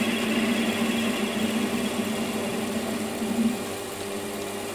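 A metal lathe takes an intermittent cut at about 500 RPM, a steady mid-pitched machine hum with a faint grinding edge, continuous and fairly close, with no voices.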